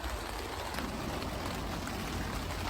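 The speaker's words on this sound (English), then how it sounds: "I hope you can hear me over the rain." Steady rain falls on an allotment, making a dense, even hiss throughout with no pauses and no voices.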